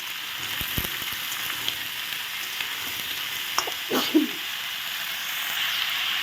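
Mixed vegetables frying in a pan for a vegetarian dish, a constant hissing sizzle with a few sharp spatula knocks and stirring scrapes near the end, close and fairly loud, without talk.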